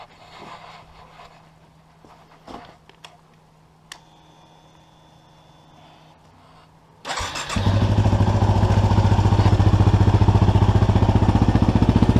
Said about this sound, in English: let's start the bike up.